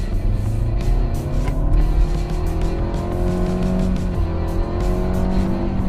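A 2015 Nissan Altima with a 2.5-liter six-cylinder accelerates hard from a standstill to 60 mph in sport mode. The engine note climbs steadily through the gears with some tire noise, loud and close, with no talking.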